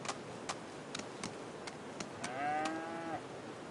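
A dairy cow lets out a single drawn-out moo in the Farming Simulator 25 barnyard, moderately close, amid a steady pattern of soft ticking clicks and quiet background hum.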